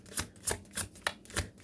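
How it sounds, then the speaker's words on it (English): A deck of cards is shuffled, giving five or six quick riffling bursts in a steady rhythm, close and fairly loud with no talking. "I'm gonna do one more shuffle"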